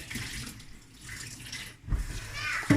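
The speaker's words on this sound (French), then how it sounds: "Puis on relave encore, puis on jette l'eau." Millet grains are swished and rinsed in water by hand, a steady close splashing and sloshing that swells near the end as the water is poured away.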